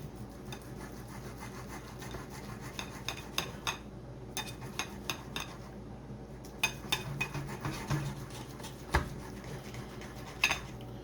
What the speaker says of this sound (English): It is perfect for cutting and separating meat.